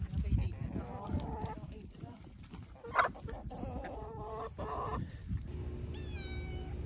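Backyard chickens cluck and murmur at dusk as they settle before roosting, with steady soft calls, one sharper squawk midway, and someone talking nearby.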